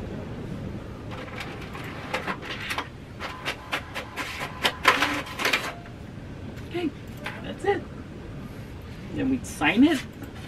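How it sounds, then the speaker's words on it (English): A home printer feeds and prints pages one at a time, giving soft mechanical whirs, clicks and sliding rasps in uneven bursts at moderate distance, with a few faint chirping squeaks among them. "we're going to run this through our printer, which is right here. It's going to put it in. It's going to spit out one at a time."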